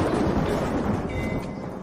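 Deep rumbling thunder rolls steadily through a dramatic outdoor scene as storm clouds gather, a broad continuous low roar with no speech.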